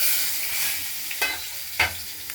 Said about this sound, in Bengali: আর এই আলুটা ভাজা চলছে